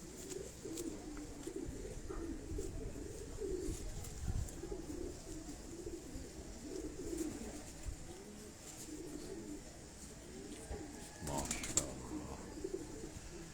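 Soft, low pigeon coos repeat faintly in a quiet setting, with light background noise and occasional faint voices.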